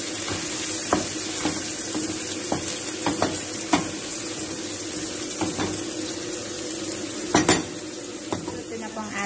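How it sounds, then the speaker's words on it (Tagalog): Macaroni goes into a pot of cooking tomatoes: a steady sizzle runs throughout, with a metal spoon clinking and scraping against the pot in scattered knocks, close and fairly loud. "lagyan na po natin yung macaroni."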